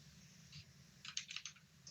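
Quick bursts of keystrokes clatter on a computer keyboard during programming work, a short cluster of clicks following a single early tap over a faint steady room hum.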